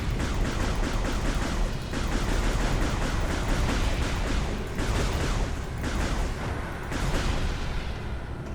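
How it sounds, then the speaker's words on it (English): Weapon fire explodes in the Metroid Prime 3 video game, a dense, continuous barrage of booming blasts and rumbling detonations, loud and close, with brief dips between bursts. "Explosion shot."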